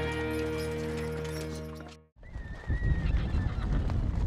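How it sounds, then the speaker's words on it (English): Horses and mules on the Rock Creek Pack Station spring horse drive in high country: a tonal whinny rings out first, then after a brief gap comes rumbling, irregular hoof clopping from the herd, fairly close and loud. "Driving a herd of horses and mules 100 miles."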